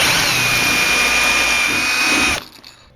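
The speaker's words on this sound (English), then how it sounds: "you can simply enlarge your existing computer fan screw mounting holes to 1/4 inch size" A power drill with a 1/4 inch bit enlarges the screw mounting holes of a computer fan, a loud continuous high-pitched whine that runs steadily for over two seconds and then cuts off abruptly.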